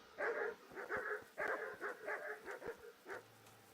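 Dogs barking in the video game Kingdom Come: Deliverance, a rapid run of loud, close barks and yips in quick succession, then a low hum at the end.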